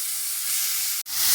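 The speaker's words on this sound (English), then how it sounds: "Now we're going to add our celery and onions into a pan, which is in a medium flame" Celery and onions frying in a little oil in a pan over a medium flame, giving a steady close bright sizzle that breaks off for an instant and then swells back slightly louder.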